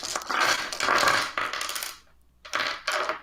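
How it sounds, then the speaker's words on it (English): Dice clatter across a table during a tabletop role-playing game session, two close, busy rattling bursts separated by a short pause, then a third burst. "Dice!"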